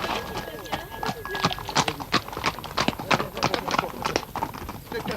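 Endurance race horses arrive at a checkpoint partway through a 90 km ride, hooves clip-clopping in a dense, irregular clatter with a horse whinnying, while people talk over the scene.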